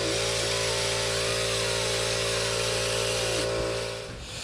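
A power tool grinds steadily on a starter part from a 2000 Kawasaki STX 900 jet ski, a loud continuous whine with a brief dip near the end as the tool eases off; no talking.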